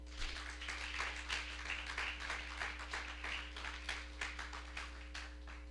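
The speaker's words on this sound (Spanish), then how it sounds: "Denle un aplauso al Señor." Worshippers in a church congregation clap during a sermon, giving praise to God. The claps come in uneven bursts that rise and fall over a steady electrical hum, with no talking over them.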